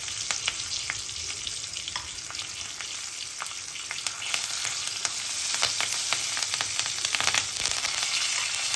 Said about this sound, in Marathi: पूर्ण फोडणी आपली तडतडलेली आहे